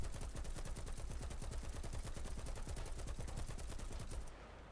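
Rapid, sustained automatic gunfire from a video game, a dense, even rhythm of sharp shots lasting several seconds before cutting off to a quiet tail.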